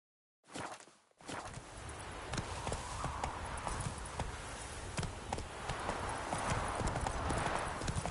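Roach, the horse in The Witcher 3, gallops steadily with dense, continuous clip-clop hoofbeats that start after a brief pause and stay loud and close throughout.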